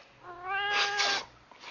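A cat gives one drawn-out, rising and falling meow, clear and close, in a quiet indoor scene from an Asian TV drama.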